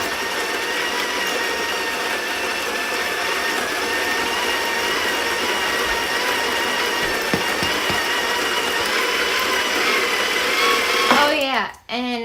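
A Niche Zero or Breville Smart Grinder Pro coffee grinder runs at grind size 12, a loud steady whirring drone with layered harmonics that holds for the whole stretch, then cuts off abruptly at the end.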